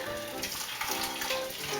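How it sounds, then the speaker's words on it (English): Boiling water from a kettle pours steadily into jam jars, a continuous hissing splash with no talk and no pause. "I'm going to fill the pots with boiling water as well as the lids"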